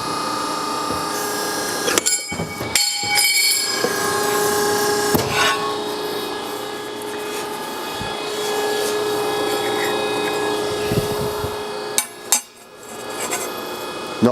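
A 55-ton JMT Rhino Series ironworker shears 1/4-inch steel plate against a fence with an automatic hold-down, a continuous loud grinding machine drone broken by sharp clunks and metallic thumps, close by and without talk.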